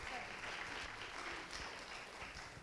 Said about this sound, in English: We have a little round of applause for Miss Radigan.